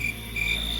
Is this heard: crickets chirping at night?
yes